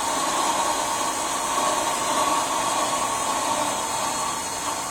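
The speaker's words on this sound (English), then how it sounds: "hit cycle start to start up my spindle. My spindle's turning." A milling machine spindle running steadily, a constant mechanical whine and hum with no variation, close and moderately loud, no voices.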